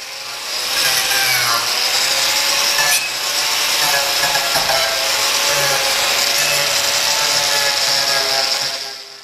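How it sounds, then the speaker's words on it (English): A power carver grinds the straight chainsaw-cut edge of a live edge wood slab into an organic shape, a loud, steady abrasive whine that runs continuously for about nine seconds with no talk. "I started to power carve off the straight chainsaw cut"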